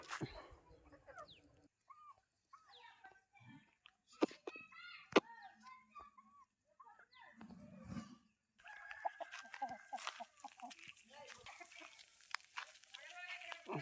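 A large fighting rooster crows and hens cluck in a quiet rural setting, with bursts of calls spread out and background chatter later on.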